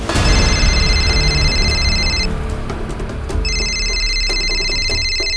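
A telephone rings loudly with a bright electronic trill in two long bursts separated by a short pause, over a dramatic crime-show soundtrack.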